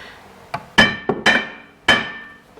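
A hammer strikes the back side of a Jeep brake rotor during a caliper, rotor and pad job, giving four or five sharp metallic bangs with ringing decay, loud and close, irregularly spaced.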